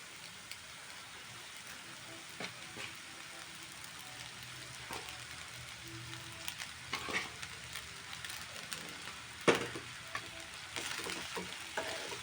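Masala pasta sizzles and fries in a pan while being stirred, a soft steady crackle broken by occasional scraping clicks of the spoon.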